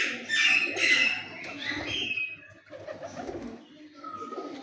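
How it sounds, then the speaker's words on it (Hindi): Breeder pigeons coo in a loft: soft, throaty rolling calls overlap one another up close, fading to quieter coos toward the end. "यकीन माने कि चोई साहब वाले कबूतरों में ऐसी क्वालिटियाँ हैं"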